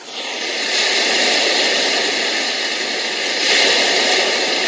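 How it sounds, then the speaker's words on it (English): Ocean-wave setting on a six-sound white noise generator: a steady, loud broadband hiss that swells gently partway through, heard alone with no voices. "Guess that's the ocean waves crashing in."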